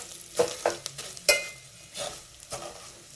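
Vermicelli being stirred and roasted in ghee in a pan, with a soft sizzle under irregular scraping strokes and a few sharp metallic clinks of the spoon against the pan, close by and without talk.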